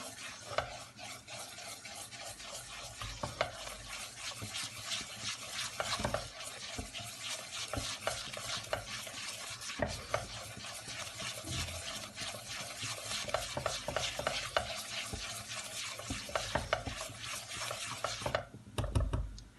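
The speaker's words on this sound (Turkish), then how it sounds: "Kavurma işlemine devam ediyorum" A spoon stirs and scrapes through ingredients sautéing in a pot for a barley vermicelli soup with chicken broth, a quiet, steady rhythmic scraping over a faint sizzle.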